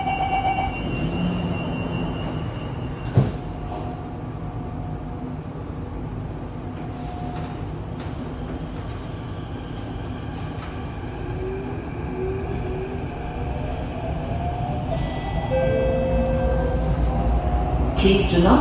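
Singapore MRT train interior rumble with an automated announcement naming Raffles Place as the next station, a brief thud as doors close, then rising motor whine as the train pulls away, steady and close.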